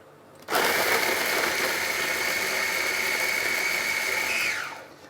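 A kitchen blender grinds chili paste for a fermented bean paste fish dish in one loud, steady whirring run that starts abruptly, holds for about four seconds, then winds down as the motor stops.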